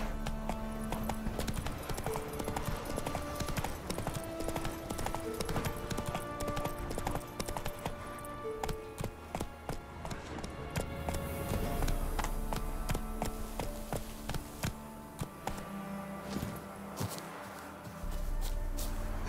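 Hooves clip-clop in a fast, steady rhythm as a horse gallops in the video game The Witcher 3, close and continuous over game ambience and music.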